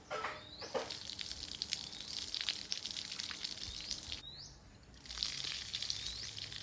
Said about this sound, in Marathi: इथे आपण हे पाणी टाकून देऊया झाडांच्या मधून